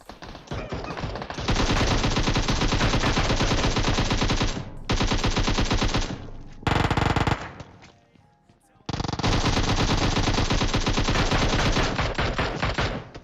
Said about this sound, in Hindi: भैया अगल बगल चारों तरफ से गोलियां चल रही है